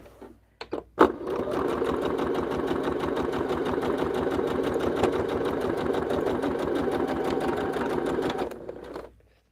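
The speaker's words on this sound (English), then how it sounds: "I'm already sewing them, so we'll do it this way" A sewing machine runs in one continuous burst of rapid stitching for about eight seconds, a steady mechanical whir and chatter heard close up, with a few clicks before it starts.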